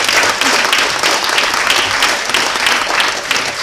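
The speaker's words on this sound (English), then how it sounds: "big applause again for the prize jury of Cine 2017" An award ceremony audience applauds the prize jury of Cine 2017, a steady, dense wash of clapping from a large crowd sustained for several seconds without pause.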